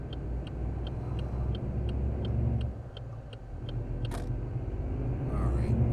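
A Ford F-MAX truck in Euro Truck Simulator 2 rumbles low and steady in traffic while a turn signal ticks regularly above it, with a short whoosh from passing traffic and talk over the top.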